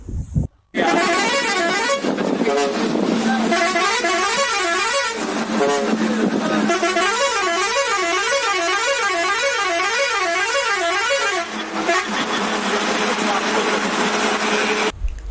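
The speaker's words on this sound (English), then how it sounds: "It's the horn of a speeding bus." A speeding bus sounds its horn in long, loud, wavering blasts that rise and fall in pitch, a brief gap after the opening moment, then sustained honking that fades out near the end.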